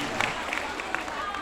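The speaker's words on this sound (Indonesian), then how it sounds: "Tepuk tangan untuk Mbak Arifah" Audience applause for Mbak Arifah at an Islamic gathering led by Gus Miftah, a dense continuous patter of many hands clapping with crowd murmur mixed in.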